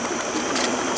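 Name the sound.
boiling water outdoors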